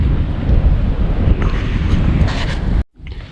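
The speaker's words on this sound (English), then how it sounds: "Very windy." Strong wind in western South Dakota buffets the microphone in a loud, continuous roar that drops out abruptly near the end.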